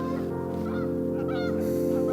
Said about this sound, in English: Can you hear those geese?